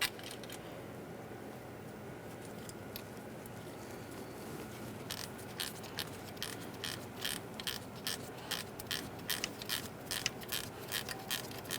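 A 12mm mounting bolt is run in and snugged on the dipstick tube of a 2011-2020 Toyota Sienna, giving a rapid series of close ratchet clicks that grows more distinct partway through.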